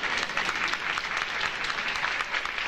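A crowd at a college commencement ceremony claps steadily, a dense, even wash of applause with no voices standing out.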